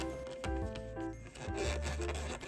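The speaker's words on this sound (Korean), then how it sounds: "먼저 몰드를 닦아주세요." A cloth rubs over a chocolate world mold, giving close, dry squeaking and scraping strokes in short uneven bursts, quiet and alone.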